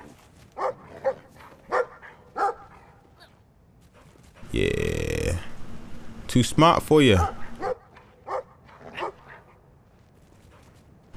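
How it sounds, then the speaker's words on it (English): Dogs bark in the video game Brothers: a Tale of Two Sons, with short yaps scattered through the clip and a louder, busier burst of barking and growling midway, while someone talks over it. "If only I could really get away from dogs like this"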